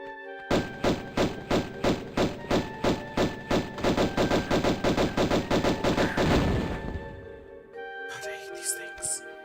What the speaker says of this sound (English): they have those stupid grenade launchers